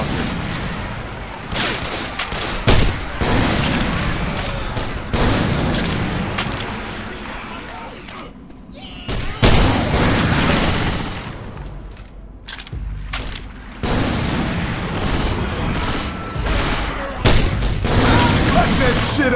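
Bursts of gunfire from a custom map in the Left 4 Dead 2 shooter, repeated shots and booms in uneven clusters with short lulls, loud and close, while players talk over the action.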